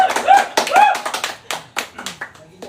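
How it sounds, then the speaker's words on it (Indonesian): Sparse, scattered clapping from a small audience at a stand-up comedy open mic in Sumenep, Madura, with separate hand claps and taps sounding close over voices talking. "Tepuk tangan dong, mana tepuk tangannya ini?"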